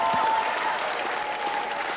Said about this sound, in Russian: Зал аплодирует вам